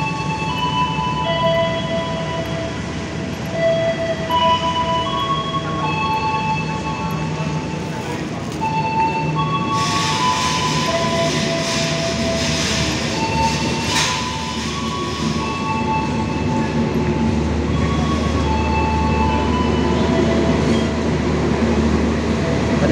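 A Fajar Utama passenger train from Cirebon to Yogyakarta rolls along with steady low rumble and rattling carriages, brief squeals and a louder burst of clatter midway, continuous throughout.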